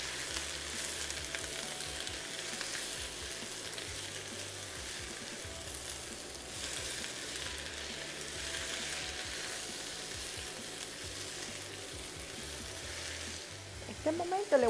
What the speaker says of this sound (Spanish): voy a seguir salteando mis vegetales